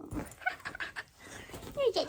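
A dog pants and sniffs up close in short breathy bursts, with someone talking softly to it over the sounds.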